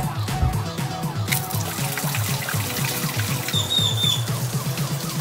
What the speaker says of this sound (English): I'm gonna rinse off in the outdoor shower.